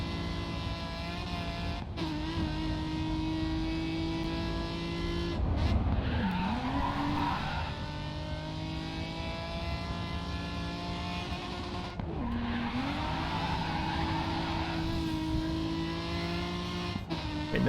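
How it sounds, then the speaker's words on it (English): A Nissan 370Z in the racing video game Grid 2 slides under the handbrake, its loud, steady engine drone carrying long tire squeals that rise and dip twice over the run. "Use the handbrake, get it to slide."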